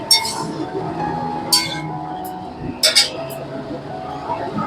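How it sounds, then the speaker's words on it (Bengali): Lentil-pea fritters dropped into a freshly rinsed bowl in a home kitchen, making a few light clinks and taps of dishware scattered across a quiet background with low room noise. "দিয়ে আমি এখানে বড়াগুলো এবার দিয়ে দেবো।"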